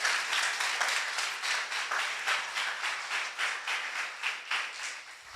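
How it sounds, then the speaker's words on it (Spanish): A church congregation applauds in a sustained, even burst of many hands clapping, moderately distant and steady throughout, with no talk over it. "Dele un aplauso porque Cornelio oraba a Dios. Pero fuerte ese aplauso."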